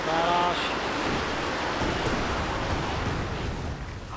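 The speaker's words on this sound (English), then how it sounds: "Another punch by the barrage" Artillery barrage in Company of Heroes 2 crashing down on a snowy battlefield, a sustained loud rumbling roar with a heavy impact at the start that rolls on continuously and fades slightly at the end.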